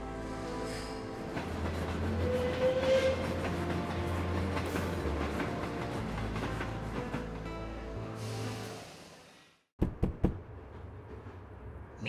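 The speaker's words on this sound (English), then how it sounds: "the train is about to depart." Train departing in the Murder in the Alps video game, with a sustained rolling, rumbling track and rhythmic knocking of the carriages that fades out, then a few sharp clunks and a lower steady rumble as the journey resumes.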